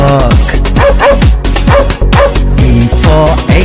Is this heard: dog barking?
yes